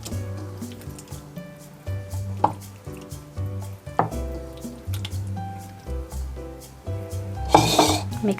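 Chicken pieces being stirred with ginger-garlic paste in a bowl, giving soft wet squishing and scraping with light clinks of a spoon against the dish in an irregular rhythm, close up, with a louder clatter near the end.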